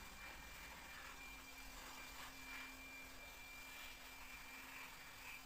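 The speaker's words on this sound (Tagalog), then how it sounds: "So, blower lamang po hanggat makatapos tayo sa ating pag-blower." Air blower drying the engine bay of a Toyota Innova after an engine wash, a steady loud whooshing roar with a constant hum that runs unbroken throughout.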